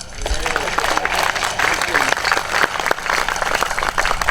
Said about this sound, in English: Okay, everybody clap.